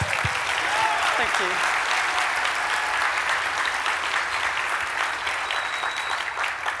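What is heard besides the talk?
audience applause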